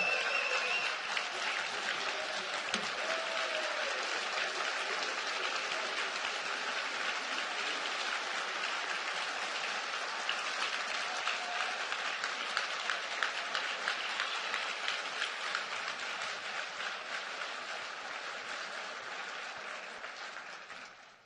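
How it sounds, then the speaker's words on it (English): Sustained, enthusiastic crowd applause at the Indianapolis NAACP Freedom Fund event welcoming Mayor Pete Buttigieg, a dense, even roar of many hands lasting about twenty seconds before fading at the end. "please join me with a warm round of applause as we welcome Mayor Pete"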